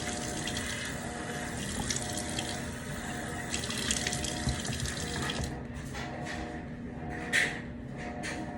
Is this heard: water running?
yes